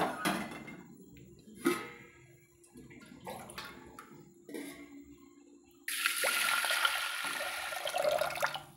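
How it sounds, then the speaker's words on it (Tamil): Water is poured into a pressure cooker pot holding urad dal: a few quiet clinks and knocks come first, then a steady, fairly close splash of pouring water for the last few seconds. "இப்போ இதில் தண்ணி சேர்த்துக்கலாங்க நம்ம தேவையான அளவு."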